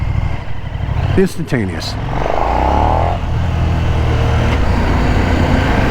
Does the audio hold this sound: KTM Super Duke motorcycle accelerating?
yes